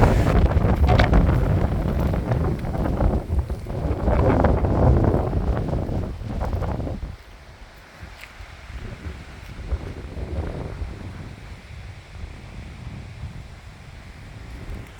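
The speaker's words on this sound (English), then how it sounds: "It's really windy today." Heavy wind buffeting the microphone, loud rumbling gusts that ease partway through into a lighter, steady blustery hiss.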